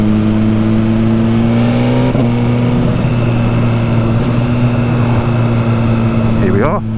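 Engine of a 2020 Suzuki GSX-R1000R motorcycle droning at steady cruising speed on the road, a continuous loud hum with wind noise and no clear revving.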